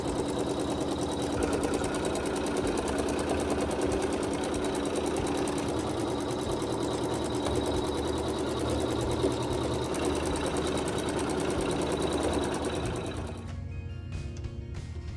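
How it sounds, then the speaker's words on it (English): An embroidery machine sews a basting stitch around the perimeter of a quilt block, giving a continuous loud, close mechanical whir that drops away into softer clicks near the end. "the machine will sew a basting stitch around the perimeter of the block"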